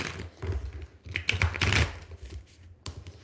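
A deck of tarot cards is shuffled by hand close to a microphone, giving quick dry riffles and flutters in short uneven bursts over a few seconds.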